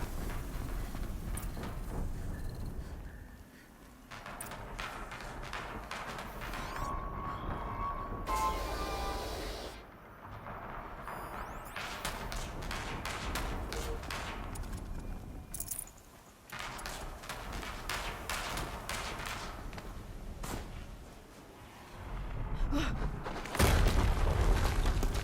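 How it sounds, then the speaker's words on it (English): Explosions from the video game Horizon Zero Dawn Remastered, deep booms recurring among dense rumbling game effects and clanking, fairly loud and continuous. "Another explosion."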